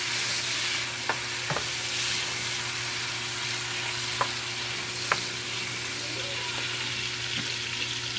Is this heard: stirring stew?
yes